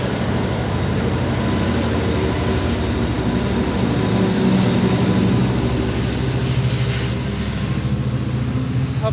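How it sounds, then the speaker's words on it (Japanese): Steady rumbling Amtrak commuter train interior noise, a continuous low roar with faint rhythmic rattling throughout, close and fairly loud. "通勤列車ですね。"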